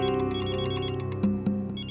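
A phone ringtone for an incoming call plays loudly and close for the whole stretch in a tense crime-investigation drama scene. It is a bright, repeating electronic melody with steady pulses and no talk over it.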